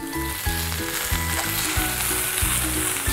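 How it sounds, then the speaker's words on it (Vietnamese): Shrimp pan-searing in a hot pan give off a loud, steady sizzle, with rhythmic stirring or scraping strokes repeating roughly every half second. "Là mình phải áp chảo cho phần tôm này được thơm."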